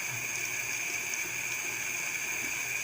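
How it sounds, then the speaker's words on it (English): Tap water runs in a steady, unbroken hiss at close range, filling the background evenly with no pauses and no voices. "I keep my water running because I don't want to lose the heat in the water"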